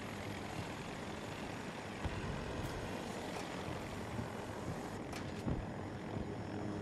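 Support helicopter in the video game Battlefield 2042, a steady broadband engine and rotor roar held loud and continuous throughout, with faint scattered impacts and no talking.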